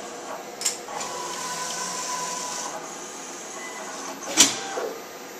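A Mimaki vinyl cutter runs a cut, giving a steady mechanical whir with sliding, clacking carriage movements and two sharper knocks, close and alone without talk.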